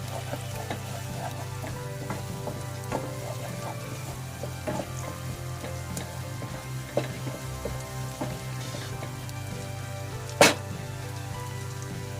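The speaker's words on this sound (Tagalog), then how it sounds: "Kailangan lutuin muna natin saglit yung ating garlic." Garlic sizzles in a hot pan for cheesy shrimp, a steady hiss of frying with a few scattered pops and one louder crackle, heard alone with no voices.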